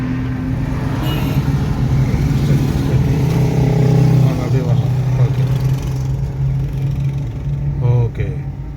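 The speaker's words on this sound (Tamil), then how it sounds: "லைட்டாக எக்ஸலேட்டர் கொடுத்து அப்படியே திருப்புங்க" A car under instruction accelerates gently through a U-turn, its steady engine hum and rising revs running throughout, with a driving instructor talking over it.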